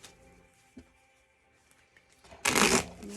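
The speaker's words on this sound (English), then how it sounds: "2 more shuffles." A deck of playing cards is riffle-shuffled once, a loud burst of rapid flutter about two seconds in after near silence, with a faint tap before it.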